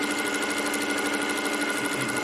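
A sewing machine stitches at speed, a dense, rapid, even mechanical whirr heard close and alone throughout.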